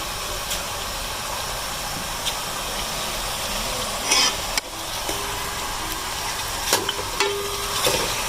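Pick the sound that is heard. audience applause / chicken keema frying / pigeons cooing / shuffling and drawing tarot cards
chicken keema frying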